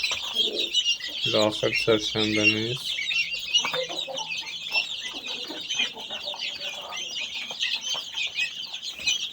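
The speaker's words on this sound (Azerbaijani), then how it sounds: "Bu yerli cücələrimizdir" Local chicks chirping in a dense, continuous high-pitched chorus, with a few nearby clucks in the opening seconds and a voice speaking briefly over the birds.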